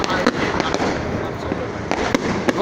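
Fireworks bursting over a bridge, a dense continuous crackle with sharp pops scattered throughout, loud and close, with crowd chatter mixed in.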